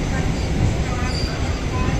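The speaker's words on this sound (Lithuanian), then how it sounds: "Senas traukinys." Steady rumble and rattle of an old, advertisement-covered passenger train passing close by in Poland, with wheels clattering on the rails and a voice talking over it.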